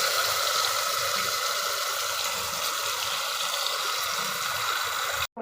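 Paneer pieces lightly sautéed in hot oil, giving a steady, dense sizzle that holds evenly close-up and then cuts off abruptly at the very end.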